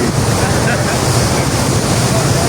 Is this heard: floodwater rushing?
yes